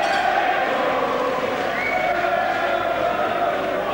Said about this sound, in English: And this crowd now beginning to root hard for Graham.